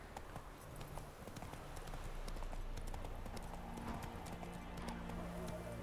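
Galloping horse hooves in The Witcher 3, a continuous rapid clip-clop running under game music and ambience at moderate, fairly distant level, with no talking.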